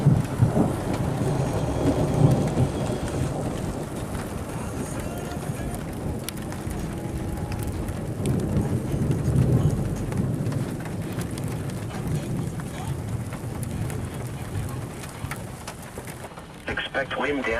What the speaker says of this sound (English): you can hear the thunder rolling through.